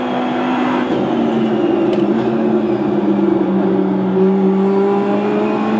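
Race car in the iRacing sim driving steadily at sustained high revs, a loud continuous engine drone with a slowly rising and falling pitch as it works through a turn, with no talk over it.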